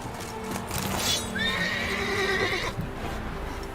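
A horse in a video game whinnies loudly in a long, rising-and-falling neigh over steady clip-clop of hooves and background game noise.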